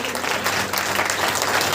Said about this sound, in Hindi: जोर से ताली बजा करके परमेश्वर को महिमा देंगे,